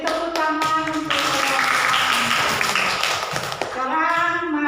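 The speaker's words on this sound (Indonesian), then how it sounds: "Beri tepuk tangan untuk" A classroom of children claps hands together, a dense patter of claps in the middle framed by voices speaking before and after, fairly close and loud.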